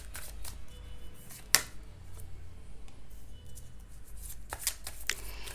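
Tarot cards are handled and shuffled to draw clarifier cards, with soft papery slides and a few sharper flicks and taps over quiet room background.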